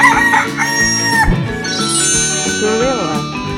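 A rooster crows in a 3D animal video game, a single bright, rising and falling call heard close over a busy musical game soundtrack.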